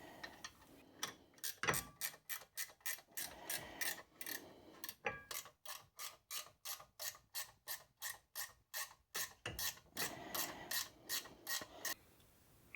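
Rapid clicking of a hand ratchet tightening a brake caliper union during rear brake caliper and disc replacement; steady runs of sharp ticks with short pauses between strokes, close and fairly quiet.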